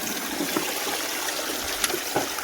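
Water trickles steadily through a self-feeding gold sluice, a soft continuous flow with occasional small splashes and gurgles, heard close and alone with no talking.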